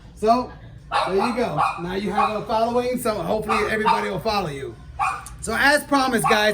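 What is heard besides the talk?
French bulldogs barking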